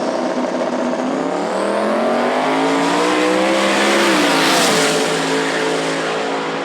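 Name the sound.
drag racing cars launching at Knoxville Dragway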